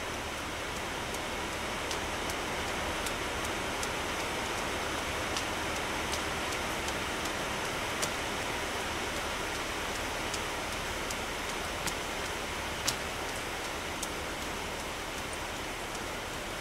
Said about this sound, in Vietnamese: Mưa to quá anh em ơi. Trong game mưa,